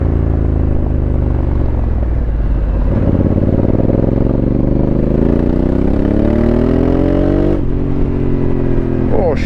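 A Honda Africa Twin motorcycle engine runs up close on a cold day, a steady loud throb whose revs climb and fall in smooth sweeps, with a brief blip near the end.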